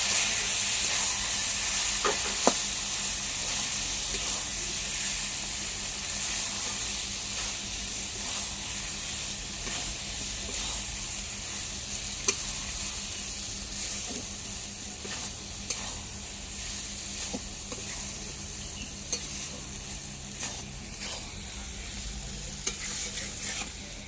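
Potatoes and snake gourd frying in a pan with ground peanut paste, stirred with a spatula: a steady soft sizzle with scattered scraping clicks of the utensil against the pan, close and fairly quiet, no talking.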